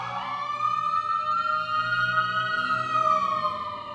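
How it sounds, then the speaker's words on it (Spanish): A wailing siren rises and falls steadily, loud and sustained throughout, with low traffic rumble beneath and no talking. "Las sirenas."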